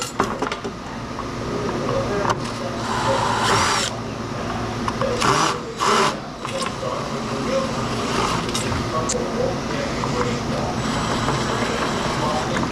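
A power drill fitted with a number 1 bit runs steadily during a scrap-out job, a continuous loud whirring with brief surges and dips, mixed with workshop clatter.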